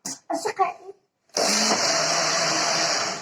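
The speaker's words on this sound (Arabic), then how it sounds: "دابا غادي نطحن هاد المكونات ديالنا" A blender grinds crepe batter ingredients, switching on with a sudden loud, steady whir that runs unbroken after a brief cough-like sound and a short silence.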